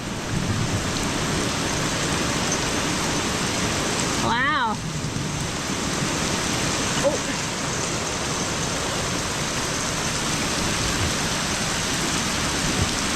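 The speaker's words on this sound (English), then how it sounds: "it's really coming down now, and there's some nasty thunder happening" Heavy rain pours steadily while thunder rumbles low underneath; a person briefly exclaims partway through.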